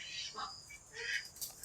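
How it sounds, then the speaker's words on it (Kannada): Chickens inside a chicken house give faint, scattered squawks and short clucks, a few brief calls spread across a quiet background. "ಎಲ್ಲ ಕೋಳಿಗಳು ಮನೇಲಿ ಬಂದಿದೆಯಾ ನೋಡೋಣ"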